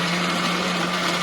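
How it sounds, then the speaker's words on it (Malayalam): A mixer grinder runs steadily while blending papaya juice, its leaking jar held down by hand in a hostel room; a constant, fairly loud motor whine with a low hum holds without a break throughout. "ഈ മിക്സി ചോരുന്നുണ്ട്, അതുകൊണ്ടാണ് ഇങ്ങനെ കൈ വെച്ചത്."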